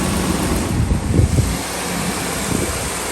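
A Ford 5.4 V8 in a Ford F-350 pickup idles loud and close, a steady rumble with a brief swell near the middle, while the exhaust manifold is being serviced.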